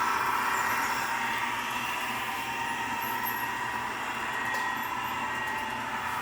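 A Märklin H0 model freight train rolls slowly into a model station on a large layout, giving a steady, close, even mechanical whirr and rumble with a faint hiss throughout and no talking.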